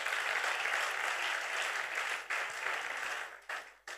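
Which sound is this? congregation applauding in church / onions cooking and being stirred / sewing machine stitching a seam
congregation applauding in church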